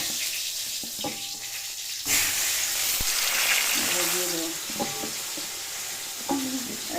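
Taro pieces go into hot oil seasoned with bay leaf and cumin in a wok, setting off a loud, surging crackle and sizzle, with stirring clatter and a few metallic clinks close by.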